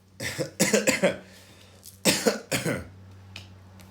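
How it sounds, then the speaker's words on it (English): A woman coughs indoors in several harsh bursts: a cluster of quick coughs, a short pause, then two more, followed by a faint throat clear. "now I'm starting to cough"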